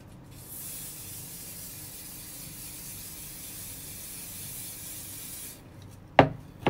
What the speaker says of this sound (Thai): เอามือจับไว้แล้วก็สเปรย์ซิกแซกซิกแซกแล้วก็ถอยมือไปพร้อมกันนะคะ